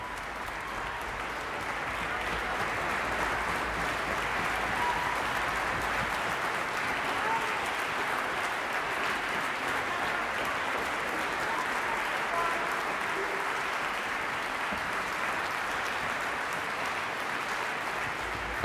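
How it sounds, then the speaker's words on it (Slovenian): A concert hall audience applauds the Radio Television Slovenia Symphony Orchestra after a Piazzolla performance, a dense steady wash of clapping from many hands that carries on evenly throughout. "Res velik aplavz, kot lahko slišite"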